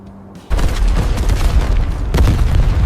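Heavy gunfire and booming explosions in a Star Wars Stormtrooper battle on a Tatooine desert: a loud, sustained barrage that starts abruptly and rumbles on, with a second burst near the end.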